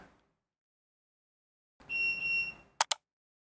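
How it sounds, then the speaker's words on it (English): A Garmin Echomap fish finder unit gives two quick, bright electronic beeps after a short stretch of faint rustling and a steady tone, heard close in an otherwise quiet spot. "the unit behind me should beep"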